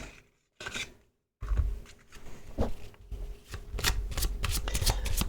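Tarot playing cards being shuffled and drawn: rapid papery riffling and flicking in bursts, close and fairly quiet, with brief pauses and soft handling sounds between.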